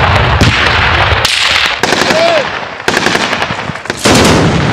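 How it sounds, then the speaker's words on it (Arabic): Gunfire in Damascus crackles in loud, rapid bursts of shots with sharp cracks and rattling volleys, close and continuous across the stretch, with no voices over it. "أصوات الرصاص هي لفتح الطريق أمام سيارات الإسعاف"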